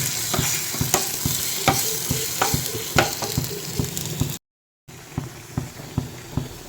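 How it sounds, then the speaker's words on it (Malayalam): Onion, chilli and curry leaves fry in a pan, a steady loud sizzle broken by repeated sharp clicks and scrapes of stirring, briefly cut to silence and then resuming more quietly. "ഇതിലേക്ക് ഉള്ളിയും മുളകും വേപ്പിലൊക്കെ ഇട്ടു ഇനി ഞാനിത് മൂപ്പിച്ചെടുത്തിട്ട്"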